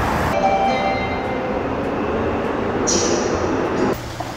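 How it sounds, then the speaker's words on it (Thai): Riding a Seoul subway train: a steady, loud rumble of wheels on rails with whining motor tones and a shift in pitch near the end, with no talk. "เดี๋ยวนั่งรถไฟไป"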